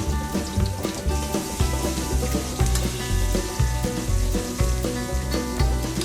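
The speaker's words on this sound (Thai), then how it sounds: "พอน้ำมันร้อนก็เอากระเทียมสับลงไปเจียว" Steady crackling sizzle of chopped garlic frying in hot oil in a pan, dense and continuous with light popping, with a soft musical backing underneath throughout.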